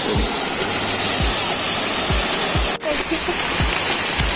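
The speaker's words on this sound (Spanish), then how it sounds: "estas cascadas revitalizan" Waterfall in Venezuela roaring as a steady, loud wash of falling water that fills the whole scene, close and continuous, with faint low thumps beneath.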